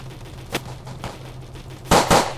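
Gunfire in a shooting video game: a couple of isolated sharp shots early on, then a louder close burst of two or three rapid shots near the end, over a low steady background hum.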